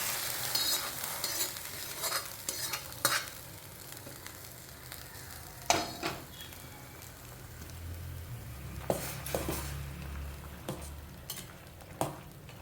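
Vegetables and manathakkali berries simmer in a pot of Tamil vathal kulambu with a soft, steady bubbling hiss, broken by several sharp ladle clinks and stirring scrapes.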